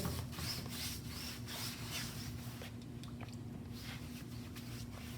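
Soft, rhythmic brushing strokes of sizing onto a taut canvas theatre flat, each swipe a faint rubbing hiss over a low steady hum, the canvas starting to sound like a drum.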